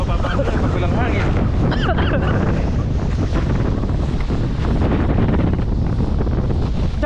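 Strong wind buffets a microphone at sea while waves wash and surge, a loud continuous roar with voices faintly audible underneath.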